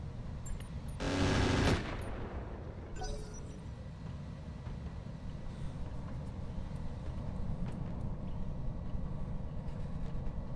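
Mech weapons fire in the Roguetech battle game: one loud, dense burst of about a second, then a sharper crack, leaving a low rumbling bed that runs on with no voices.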